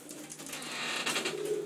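Cooing from young racing pigeons at a Hawaiian loft in Puna near Hilo, a low murmuring chorus that swells slightly toward the end, close by and without any voices.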